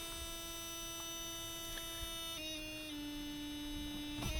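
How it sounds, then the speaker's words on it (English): A steady electric buzzer in an abandoned Mercedes 300CD hums continuously over a low background rumble, its pitch shifting slightly partway through. "we should be able to tell how much charge we got left by the sound of this buzzer"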